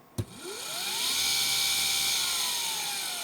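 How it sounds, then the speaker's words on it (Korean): A 32V coffee machine motor is switched on after a sharp click and spins up, its whine rising in pitch and then holding a steady, high, close hum. "모터는 32V인데 자 이쪽에 전원을 하나 연결을 해보고 네, 플러스를 대보겠습니다. 회전축이 도는지 살펴보도록 할까요?"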